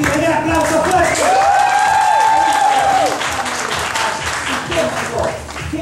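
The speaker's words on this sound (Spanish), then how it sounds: "¡Un aplauso fuerte!" A live audience at a salsa music show bursts into loud, sustained applause, with dense clapping and some cheering that carries on steadily for several seconds.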